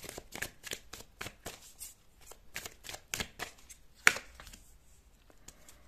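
Tarot cards are riffled and shuffled close up in quick papery bursts, slowing into a few separate flicks and slaps as cards are drawn, quiet and without talk.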